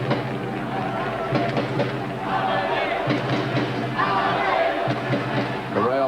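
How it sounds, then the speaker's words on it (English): Aberdeen supporters cheer in a packed football stadium during a match against Real Madrid, a broad roar of crowd noise running steadily beneath a commentator's voice. "The Aberdeen fans cheering their team on."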